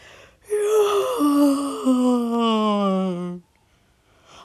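A reader performs an exaggerated yawn, one long loud drawn-out voiced moan that slides downward in pitch for about three seconds before stopping abruptly.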